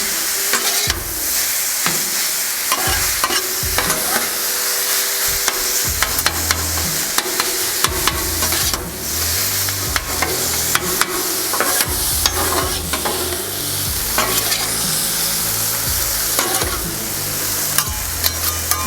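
Ground beef fries on a Blackstone flat-top griddle, a steady loud sizzle throughout with repeated scraping and chopping strokes of a spatula breaking up the meat, no talking.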